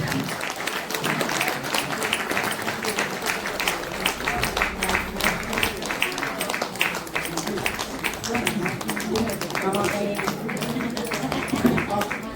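Sustained crowd applause fills the air at a Tamu Loshar Gurung cultural celebration in Pokhara, honoring Captain Prakash Gurung and his family, with a speaker's voice heard over the clapping.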